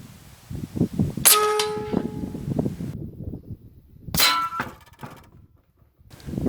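Two sharp shots from a .357 caliber AEA HP Max or Challenger SL air rifle at long range, each a loud crack with a ringing metallic clang, spaced about three seconds apart over faint background rustle.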